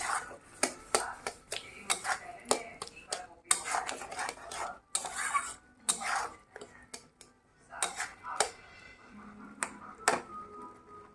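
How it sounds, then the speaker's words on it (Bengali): Sugar stirred into fruit chutney in a pan gives repeated close scraping and rubbing strokes against the metal, with irregular clinks and pauses between them. "করে নেড়ে নিব যাতে চিনিগুলো গলে যায়"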